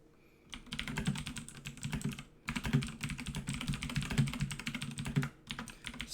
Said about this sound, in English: Excuse my really loud typing.